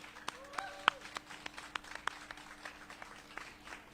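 A small press-conference audience gives a sparse, quiet round of applause for the MedAssist team at a brand launch, with scattered individual claps spaced out rather than a full ovation.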